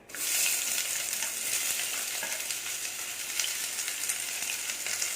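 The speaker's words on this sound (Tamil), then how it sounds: "அப்படியே வெங்காயத்தை போட்டு வதக்க வேண்டியதுதான். எண்ணெய் சூடாயிருச்சு." Sliced onions, cut into long strips, sizzle steadily in hot oil for a Kerala-style potato stew, a dense, continuous frying hiss right from the start with no talking.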